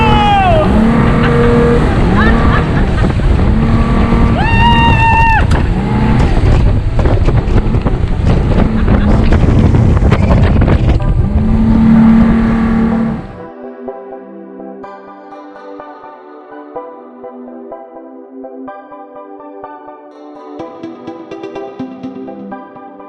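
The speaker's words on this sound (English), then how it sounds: "the rib ride was a fantastic way to end my trip to the Isle of Wight" A RIB boat doing a fast spin off the Isle of Wight: loud engine and wind roar with excited shouting voices for about thirteen seconds, then the roar cuts out and quieter music remains.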